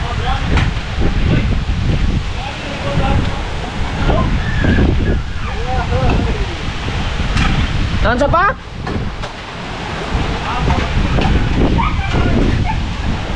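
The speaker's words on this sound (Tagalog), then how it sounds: "Malakas na ang hangin." Strong typhoon wind and heavy rain of Super Typhoon Uwan making landfall in Batangas: a loud, continuous roar of gusts and pouring rain with no letup, while a person speaks close by over it.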